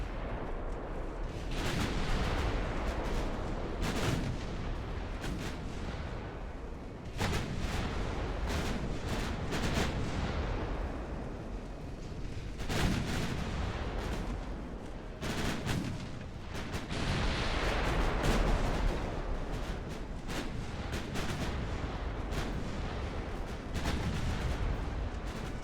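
Continuous heavy naval gunfire from battleships in Ultimate Admiral: Dreadnoughts: dense, rolling booms and blasts overlapping throughout, loud and sustained with brief sharper salvos standing out.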